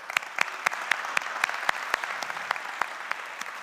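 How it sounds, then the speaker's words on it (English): Scattered applause from a conference audience at a React Native developer event, with sharp individual claps standing out at a steady rhythm over a softer wash of clapping, moderately close. "I want to start with a huge round of applause for Software Mention"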